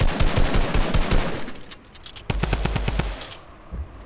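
Rapid automatic gunfire in a Fortnite World Cup match: dense bursts of close, loud shots with a short gap before a second volley.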